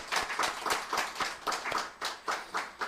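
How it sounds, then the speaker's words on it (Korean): A church congregation claps together after a call to give glory at a New Year service, a steady run of rhythmic, fairly close hand claps with no talking. "우리 한번 영광의 박수 한번 드리도록"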